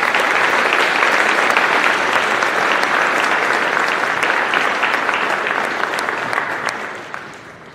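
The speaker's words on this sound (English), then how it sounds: "Please give them a big round of applause." Sustained audience applause at a high school pops concert, a dense, loud wash of clapping that holds steady before thinning toward the end.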